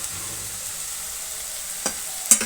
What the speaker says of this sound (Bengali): এখন এটা একটু ভাজা ভাজা করে নামাবো